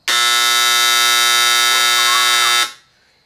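A homemade spot welder built from a microwave oven transformer fires once, giving a loud, steady electrical buzz that holds for about two and a half seconds, then cuts off abruptly.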